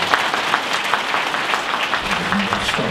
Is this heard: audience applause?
yes